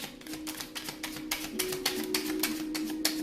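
Tarot cards being shuffled by hand, a steady run of crisp riffling flicks and papery slaps close up, fairly loud and continuous, with a faint tonal hum underneath and no voices.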